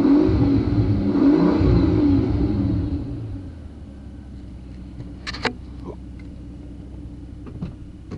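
A 2007 Mercedes CL600 with a 510 hp twin-turbo V12 revs with a deep, loud rumbling roar that fades after a few seconds, leaving faint background with small clicks and a short voice sound.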